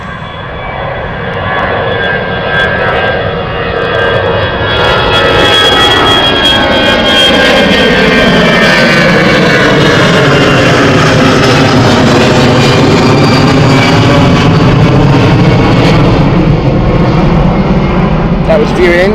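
Jet airliner roaring down the runway and climbing away on takeoff for Barcelona at Gatwick Airport, a loud sustained engine roar with shifting whine that builds and holds, heard from outdoors nearby.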